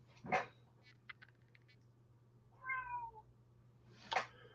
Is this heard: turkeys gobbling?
no